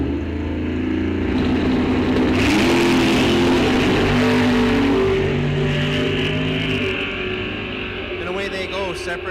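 At Rock Falls Raceway, a 1971 Duster and a Camaro launch in a bracket drag race, engines roaring and climbing in pitch as they pull away, then fading with distance while an announcer talks over them.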